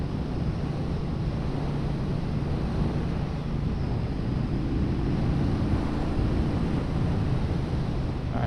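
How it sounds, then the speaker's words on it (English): A 2024 Triumph Bonneville Bobber motorcycle on a demo ride, its exhaust holding a steady low rumble under heavy, constant wind buffeting across the whole stretch. "what's the most enjoyable thing about this bobber is just that exhaust note"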